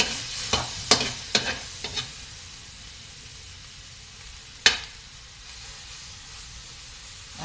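Close-up sizzle of chicken liver cooking in a dry pan, with a quick run of four or five scraping stirs early on, then a steady hiss broken by one more loud stroke.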